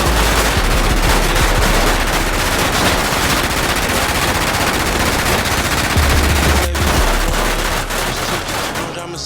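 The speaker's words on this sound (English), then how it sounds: "Here is the footage of the shooting." Sustained, loud gunfire from a shooting, with dense bursts of rapid automatic shots crowding nearly all nine seconds and no break.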